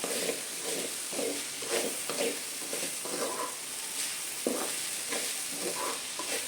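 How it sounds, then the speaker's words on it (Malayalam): Egg bhurji masala with chilli powder is stirred in a hot pan, with a steady frying sizzle broken by repeated scraping strokes at a loose, uneven rhythm. "മുളക് പൊടിയുടെയൊക്കെ പച്ചമണമൊക്കെ ഒന്ന് മാറുന്ന വരെ നമുക്കൊന്ന് ഇളക്കി കൊടുക്കാം"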